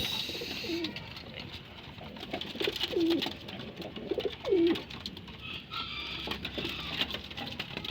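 Racing pigeons coo in soft, low, repeated calls from close by, several throaty rolling notes spaced through the clip over a light pattering and rustling background.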